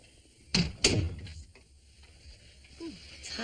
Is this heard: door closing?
yes